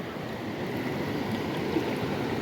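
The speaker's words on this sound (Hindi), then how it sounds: "देखो ये लहरें बनी हुई है यहाँ पर।" Waves and rushing current on the Tos river make a continuous, even wash of water noise, steady and close with no breaks.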